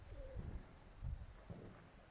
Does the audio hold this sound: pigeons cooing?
yes